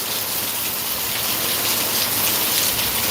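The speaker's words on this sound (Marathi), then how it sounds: "कारण पाऊस खूप मोठा आहे" Heavy monsoon rain pours down steadily in Deglur in a dense, constant hiss, with no voices or other sounds over it.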